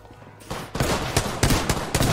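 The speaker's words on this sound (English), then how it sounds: "I don't know where that guy's shooting me from" Rapid gunfire in an Apex Legends match, a series of sharp loud shots in quick bursts, close and dense, with no talk over it.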